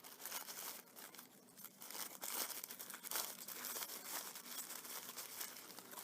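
Green and red tissue paper crinkles and rustles continuously while being shaped around a candy flower, close and dense crumpling bursts of varying intensity with no talk over it.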